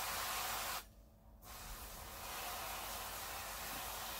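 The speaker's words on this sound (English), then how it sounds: "Now I'm going to spray oil all over my chicken." Oil sprayed over breaded chicken for a homemade chicken Kiev before air frying: a short steady hiss that stops briefly, then resumes and continues near and fairly loud.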